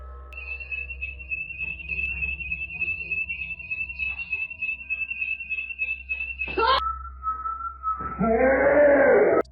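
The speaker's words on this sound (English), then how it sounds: "While getting a food delivery, Britt walked inside to disable the home alarm, which randomly went off" A home alarm sounds a long, steady electronic tone, breaks into a short harsher burst, then drops to a lower steady tone, with a loud rough noise rising under it at the end.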